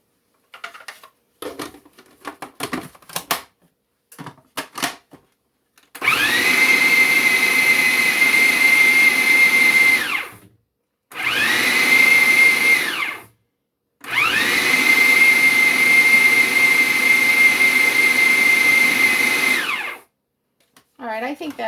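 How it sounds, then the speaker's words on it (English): A food processor chops coconut in loud whirring bursts, three long runs separated by short pauses, with a few clattering knocks before the motor starts. "we're going to put the coconut in the food processor"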